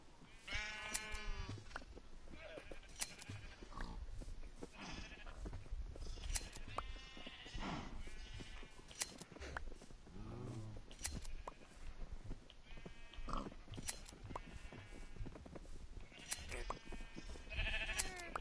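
Video game sheep bleat again and again, loud and close, with several overlapping calls running almost continuously from start to finish.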